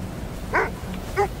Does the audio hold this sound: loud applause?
no